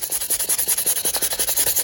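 Steady rapid rasping strokes of sanding on a metal knife blade, rhythmic and close, with a bright hiss running throughout.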